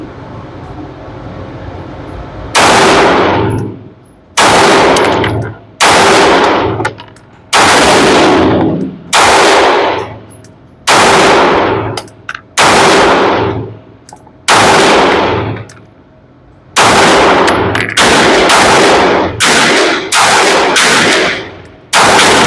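A Maxim Defense PDX rifle in 300 Blackout fires about a dozen loud, sharp shots at a range, each crack ringing briefly, spaced roughly a second or two apart with a few quicker doubles near the end.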